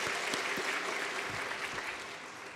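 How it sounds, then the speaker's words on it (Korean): A church congregation at a Sunday afternoon service claps for the pastor, a dense wash of applause that fills the room and slowly tapers off. "목사님께 감사의 박수 한번 보내주시고요"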